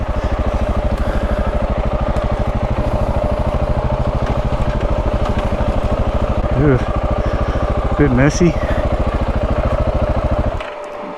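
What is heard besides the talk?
KTM 690 Enduro motorcycle engine running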